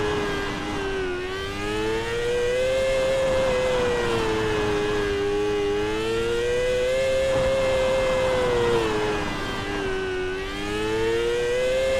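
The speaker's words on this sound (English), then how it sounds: "you can hear it bogging down. If you get the car too sideways, it will bog down." Micro sprint car engine in the iRacing sim, a steady droning whine that wavers in pitch and sags slightly as the car slides sideways and bogs down, loud and continuous with no talk.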